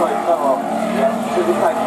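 Drift cars at a Drift Open round at Motopark Koszalin roar with engine noise and tyre squeal, sustained and close, under continuous commentator talk.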